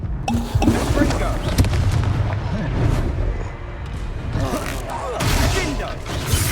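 Confringo fire spells blasting during a Hogwarts Legacy video game battle: repeated booming bursts and crackling impacts in dense combat noise, with voices talking throughout.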